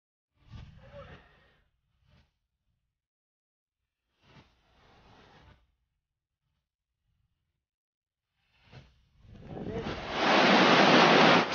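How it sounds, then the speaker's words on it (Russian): Roaring, rushing floodwater through the streets of Sochi, a steady broadband surge building near the end, preceded by a few brief bursts of noise and quiet gaps. "улицы города превратились в бурлящие реки"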